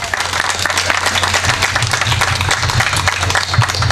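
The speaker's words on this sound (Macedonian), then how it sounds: "Еден аплауз за неа ако може." An audience at a discussion about helping asylum seekers applauds steadily, a dense wash of many hands clapping at close range with no pauses, lasting a few seconds.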